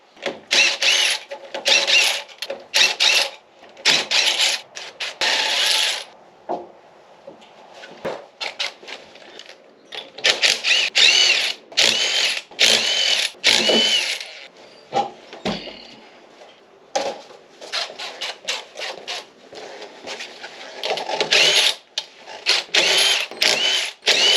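An impact-style power tool whirs in repeated loud, close bursts of a few seconds each while Weld Racing S71 wheels are mounted onto a jacked-up Trans Am WS6, with brief pauses between runs and no talking.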